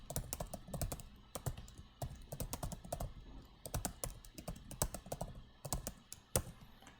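Typing on a computer keyboard into Notepad: rapid, close clicking keystrokes in quick irregular bursts with brief pauses, no voices.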